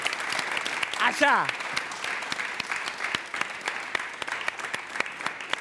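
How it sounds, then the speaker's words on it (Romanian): A studio audience on a Wheel of Fortune game show applauds a contestant with moderate, fairly sparse clapping that carries on steadily, while a voice exclaims briefly near the start. "Aplauze pentru Armin."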